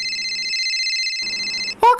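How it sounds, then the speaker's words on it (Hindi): A phone ringtone in a GTA-style game scene plays as a steady electronic tone, followed by a short burst of voice at the end. "फोन आ रहा, तुमको उठा लो ना जी"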